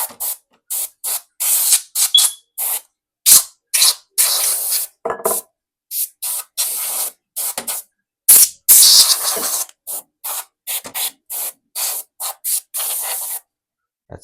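Repeated short bursts of compressed air from a blower cleaning the dusty internals of a PS4 console, loud, close hissing blasts separated by brief silences, no talking.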